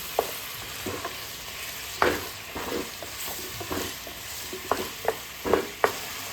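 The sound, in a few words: ginger garlic paste frying in pan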